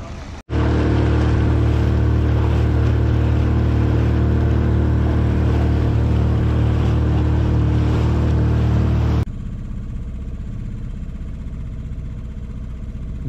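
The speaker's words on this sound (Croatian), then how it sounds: "Došao nas se pohvaliti s novim brodom" A new motorboat's engine roars loud and steady at sea off Krk for several seconds, then cuts off abruptly, leaving quieter water and wind noise.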